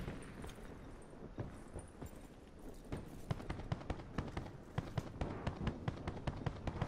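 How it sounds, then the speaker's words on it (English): Rapid bursts of video game gunfire as mesh mines are launched in a wooded map, sharp repeated cracks growing denser and louder over the second half, with no voice over them. "They're shooting mesh mines."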